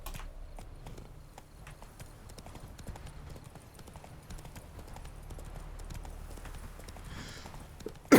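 Roach the horse gallops in The Witcher 3, with fast, rhythmic hoofbeats clip-clopping steadily at moderate volume and a sudden louder burst at the very end.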